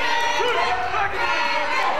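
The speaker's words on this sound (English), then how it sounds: "The crowd definitely going nuts here tonight at the Impact Arena." A wrestling arena crowd at the Impact Arena roars and cheers during a live wrestling event, a dense, steady wall of noise with scattered shouts and whoops throughout.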